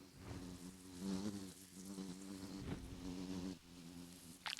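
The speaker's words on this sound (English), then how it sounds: "there's bees still hanging around here" Bees buzz around a hive on a Minecraft farm, a faint, wavering hum that rises and falls in pitch as they drift close and away.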